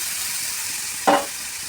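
Potatoes and mushrooms fry in a pan with a steady, close hiss of sizzling oil and a single brief scrape or clink partway through.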